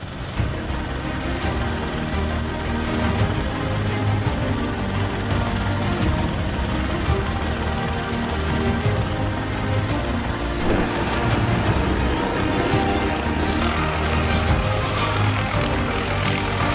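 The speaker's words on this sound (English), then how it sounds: "Helicopters trimming trees?" A helicopter trimming trees with a saw, its steady rotor thrum and engine drone filling the air continuously, loud and close, with a high whine that cuts out partway through.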